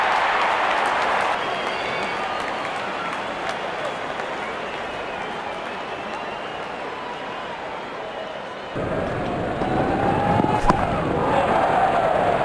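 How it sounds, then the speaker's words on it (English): A crowd at a Caribbean Premier League T20 cricket match cheers the openers walking out, a broad, distant roar of applause and cheering that swells again toward the end. "Out come the openers, cheered by a good crowd in"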